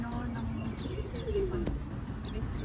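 Pigeons cooing in a plaza in Israel, soft throaty coos and a few chirps close by, set against a faint outdoor background murmur.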